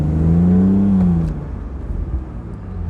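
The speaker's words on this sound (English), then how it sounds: "This seems to have a real good exhaust rasp" A BMW Z3 3.0i roadster's six-cylinder engine accelerates hard, a loud rising rasp from the exhaust for about a second before it eases off into a lower, steady rumble.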